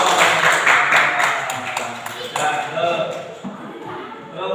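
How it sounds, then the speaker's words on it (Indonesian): Classroom applause from teachers and students at a school coaching session, a dense patter of clapping that fades over a few seconds. "Kasih tepuk tangan tuh, terima kasih."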